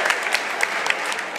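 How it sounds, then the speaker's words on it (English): Audience applause at a school cum laude induction ceremony, a brief steady burst of many hands clapping that fills the whole moment without any talk. "Turn towards China and clap towards China, Jack Mee."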